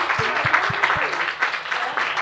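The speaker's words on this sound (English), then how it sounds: "he gets a round of applause" A round of applause for a man named Patrick at a dialogue event on the Montpellier process, steady clapping from a small group that runs for about two seconds, with a voice talking over it.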